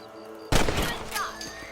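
A single rifle shot fired at rabbits in the Western video game Red Dead Redemption, a sharp loud crack with a brief rumbling tail, heard alone against quiet ambience.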